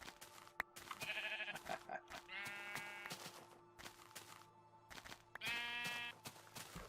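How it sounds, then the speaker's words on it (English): Several sheep bleat in Minecraft, with repeated harmonic bleats from a small group close by, spread across the clip over steady background game ambience and no talk. "Absolutely great timing for this group of sheep to spawn right in front of me."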